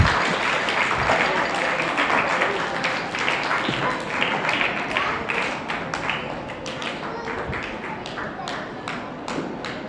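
A crowd gathered at a church Vacation Bible School day claps continuously to welcome someone speaker, a dense, steady patter of many hands close by that tapers slightly toward the end, with voices mixed in.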